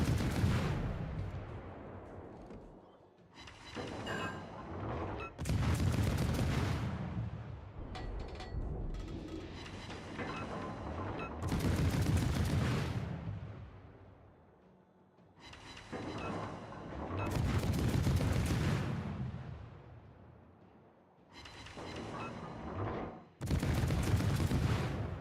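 Heavy warship naval guns firing in World of Warships, booming salvos roughly every few seconds with long rumbling decays between them, loud and close with no talk.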